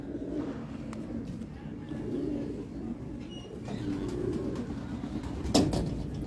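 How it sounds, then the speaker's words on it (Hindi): Low, soft pigeon cooing repeats in gentle phrases nearby, with a faint background murmur and a brief flutter near the end. "लो जी, बड़ा ही आला कबूतर।"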